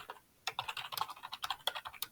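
Rapid typing on a computer keyboard, close and clear, with irregular bursts of key clicks after a brief quiet start.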